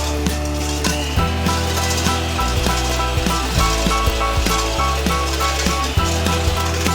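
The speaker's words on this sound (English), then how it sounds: "We're going to use the whisk." A Morphy Richards electric whisk, set to speed 4, whirs through hollandaise sauce with a steady motor drone and a continuous run of small rattling clicks from the beaters against the bowl.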